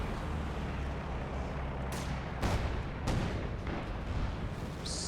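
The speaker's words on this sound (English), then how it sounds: "Pack gets completely destroyed by Su-76 artillery barrage." Su-76 artillery barrage in the video game Company of Heroes 2, a dense run of booming impacts and blasts with several sharp, loud hits over a constant battle rumble.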